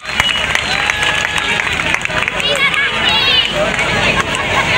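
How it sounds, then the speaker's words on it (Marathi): A crowd claps and cheers at an outdoor Ambedkar Jayanti celebration in Ulhasnagar, a steady, dense wash of applause mixed with crowd babble lasting throughout. "भैया भाऊ मोरे सर्वांनी जोरदार टाळ्या वाजवायचे आहेत"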